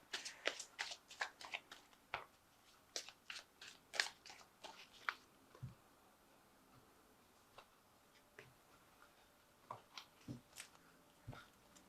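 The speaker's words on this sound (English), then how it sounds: "Now I have shuffled this deck." Crisp bursts of a tarot deck being shuffled and riffled, a quick run of sharp flutters, a pause, then another cluster of shuffling, close and fairly quiet.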